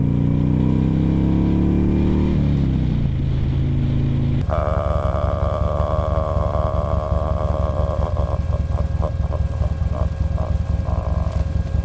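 A 2006 Buell Ulysses motorcycle riding along with a steady, loud V-twin engine drone and wind rush, the pitch dropping as it shifts partway through, then holding a throbbing cruise.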